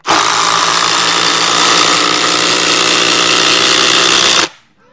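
A Hercules cordless drill on a 4 amp-hour battery, speed setting 3, drives a 6 inch structural screw with a loud, steady motor whine that runs unbroken for about four and a half seconds before cutting off abruptly.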